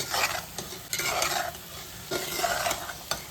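Prawns sizzle in a pan of masala gravy as a spoon stirs through them in short scraping strokes, close up and with no talking.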